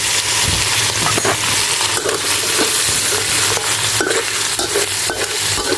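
Shrimp go into a crab curry stir-fry in a hot pan, with loud, continuous sizzling and frying over repeated scraping stir strokes close up.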